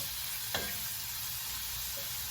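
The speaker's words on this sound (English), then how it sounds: "let it kind of sizzle in the pan for a few minutes" Steady, even sizzling of steak frying in oil in a pan, a constant bright hiss close by with one faint clink partway through.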